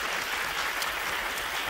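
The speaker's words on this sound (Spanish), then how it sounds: "Un aplauso de bienvenida." A studio audience at a Spanish television game show applauds in a steady, dense wash of clapping throughout the short moment, with no talking over it.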